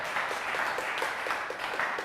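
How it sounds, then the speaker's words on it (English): An audience at a software engineering talk claps steadily and fairly softly for about two seconds, a dense patter of hands with no voices on top. "You can clap again if you want"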